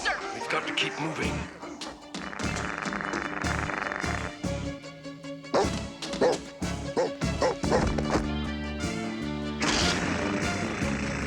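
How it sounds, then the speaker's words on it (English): Robot dogs from the Defenders of the Earth cartoon bark and yip in repeated loud bursts over an orchestral score and crashing effects, with voices talking in between. "robo-dogs are coming closer!"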